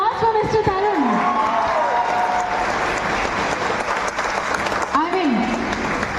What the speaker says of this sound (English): Can we have a round of applause for Mr. Tarun?